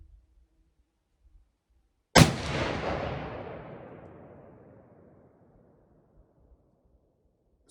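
A single sharp, loud rifle shot from a Winchester Model 670 chambered in .300 Win. Mag., fired while sighting in for hunting, cracks suddenly and rolls off into a long echoing decay lasting a few seconds before quiet returns.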